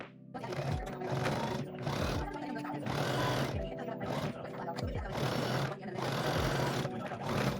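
A sewing machine stitches fabric for the nose of handmade monster leg warmers, running in loud, steady bursts with brief pauses between runs, with some background talk.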